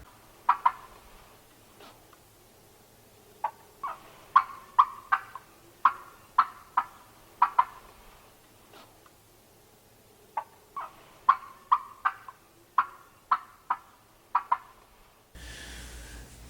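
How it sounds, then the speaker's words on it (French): Wild turkey cut call: loud, sharp, irregular clucks in quick clusters and scattered single notes, close and clear over a quiet background, with a brief burst of noise at the very end. "Le cut, c'est une sonorité qui dit que le dindon est un peu énervé, qui est un peu excité"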